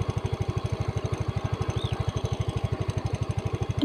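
A motorcycle engine runs at a fast, even idle while powering a 12 V submersible pump draining a well, its regular rapid chugging pulses loud and close, with no talking.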